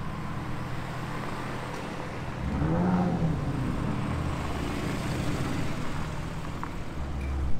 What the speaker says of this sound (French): Le grondement du V10 à bas régime